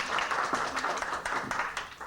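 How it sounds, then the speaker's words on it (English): Audience applause for a speaker at a spiritual lecture: a steady, dense wash of many hands clapping together, moderately loud and fairly close, holding evenly for about two seconds. "Let's hear a nice round of applause for Carmen."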